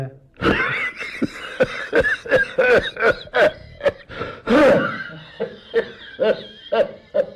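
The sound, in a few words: elderly man coughing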